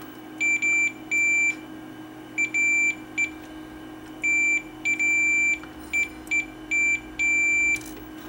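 A multimeter sounds continuity beeps while its probes test the pins of a VCR head. The beeps are short, high and clean, some single and some in quick pairs, with brief gaps of quiet between them over a steady low background hum.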